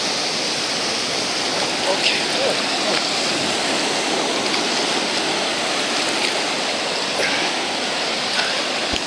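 Water rushes in steadily with a broad, even hiss like a stream or surf, continuous and fairly loud, while a voice briefly speaks over it.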